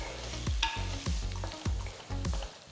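Chopped ripe tomatoes are stirred into frying onions for a fish curry, with a sizzling hiss and four or five distinct, evenly spaced scraping stirs close up.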